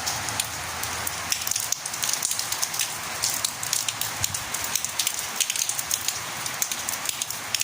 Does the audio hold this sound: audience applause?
no